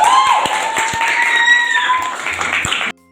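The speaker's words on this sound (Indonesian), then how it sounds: "Tepuk tangan untuk reaksi." Classroom applause, clapping that runs steadily for about three seconds before cutting off abruptly, with a whistle-like tone over the top.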